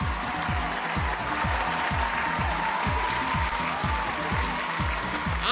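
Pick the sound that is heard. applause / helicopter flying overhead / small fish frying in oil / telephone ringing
applause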